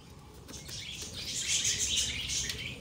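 Busy chirping and fluttering from a group of pigeons close by in a cage, with rustling wing flaps mixed into a steady, dense chatter.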